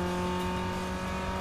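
Race car engine in Need for Speed Underground 2 runs as a steady loud drone with strong harmonic tones, holding at a sustained pitch and level for a moment with no talk over it.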